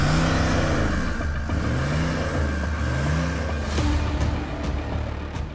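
A modified diesel 4x4 coal roller engine revving repeatedly, each rev climbing and falling in a regular rhythm, loud and close, followed by a few sharp clicks near the end.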